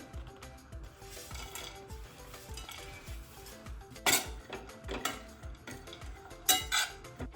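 Cashews, almonds and pistachios are stirred in a pan with a spoonful or two of ghee, giving soft clinks and scrapes of the spoon against the pan, quiet with a few sharper knocks.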